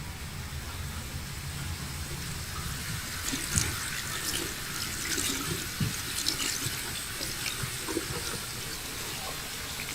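Water runs steadily from a tap to rinse something off, a constant broadband rush with a few splashy bursts, close and continuous for the whole stretch.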